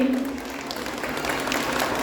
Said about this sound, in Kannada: ಚಪ್ಪಾಳೆ ಬರಲಿ